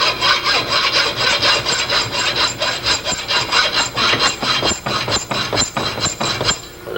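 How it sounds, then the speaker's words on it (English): A hacksaw cuts a screwdriver slot into the end of a metal shaft for a front bearing, a steady rapid back-and-forth rasping of strokes running the whole time, close and loud with no talking. "Just take a hacksaw and saw it right on the end."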